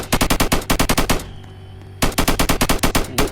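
Rapid bursts of machine gun fire in a shooting video game at a gun shop, two loud rattling volleys separated by a short pause.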